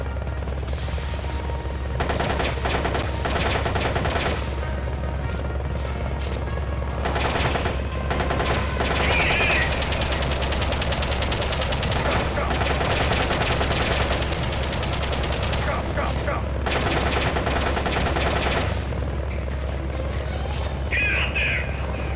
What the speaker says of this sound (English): I could try taking pot shots at it with the SMG